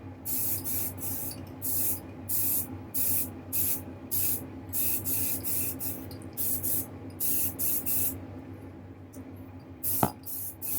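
An aerosol spray can lays on coats of black paint in a string of short hissing bursts with brief gaps between them. A sharp knock comes near the end.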